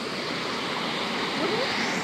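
Flowing stream water at an outdoor bathing spot, a steady, close, even broadband rush with no break and no voices.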